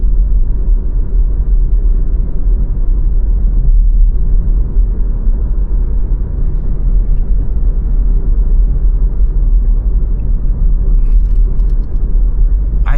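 A Skoda Octavia with a 1.4 TSI petrol engine drives through city streets in light traffic, heard from inside as a steady low engine and road rumble with no talk.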